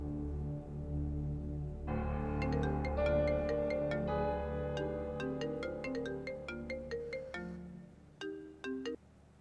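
A phone ringtone for an incoming call plays alone: a bright electronic melody of quick repeated chiming notes over a sustained tone, fairly loud, ending with a couple of short final beeps.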